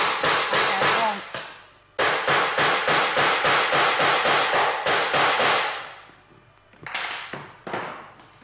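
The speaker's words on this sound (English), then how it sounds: "Then I'll use my puncher to create the holes" A handheld hole puncher snaps through craft material in a quick series of sharp clicks and punches, grouped in bursts with short pauses between them, close and fairly loud.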